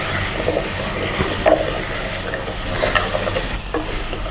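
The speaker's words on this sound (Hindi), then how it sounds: "इसके साथ ही हम डाल देंगे ये कद्दू के पीसेस और इसे 2-3 मिनट फ्राई करेंगे" Pumpkin pieces frying in a pan with spices, stirred steadily, with a continuous close sizzle and occasional scraping clicks throughout.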